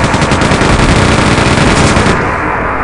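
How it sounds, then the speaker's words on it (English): Chain gun firing with quad damage in Quake 2, a loud unbroken stream of rapid shots roaring for about two seconds before cutting off and leaving a short ringing tail. "Here's the chain gun. We're gonna need it. Quad damage."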